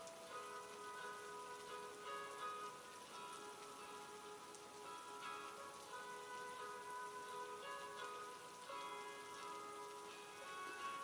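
Steady rain falls on a surface for the whole stretch, a constant dense patter that stays even and fairly soft throughout.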